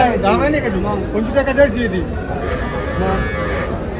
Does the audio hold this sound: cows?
yes